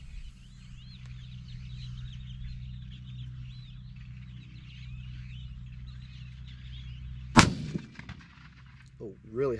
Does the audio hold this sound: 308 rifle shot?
yes